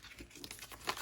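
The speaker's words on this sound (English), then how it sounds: "I'm just going to scrunch this up, these envelopes up" Paper envelopes scrunched up by hand, a short, quiet burst of close crinkling and crackling with a sharper crunch near the end.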